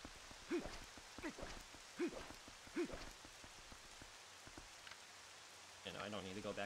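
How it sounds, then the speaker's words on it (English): Rain falling in the video game The Legend of Zelda: Twilight Princess, a steady hiss of raindrops on surfaces with a few soft thudding drips, heard quietly in the background. "It's raining. The weather's just getting shittier and shittier."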